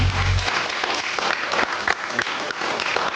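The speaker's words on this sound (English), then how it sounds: "Don't stop clapping till he gets here" A studio audience applauds a guest's entrance with sustained, even clapping that carries a faint murmur of crowd voices underneath.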